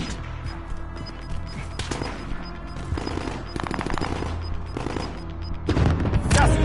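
Video game gunfire in an online shooter, with bursts of rapid shots and booms over a constant background of game sound, loudening toward the end.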